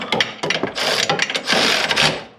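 Ratchet wrench tightening a nut on a 2002 Chevy Corvette engine during a head gasket replacement, a run of quick close metallic clicks in bursts, loud and alone.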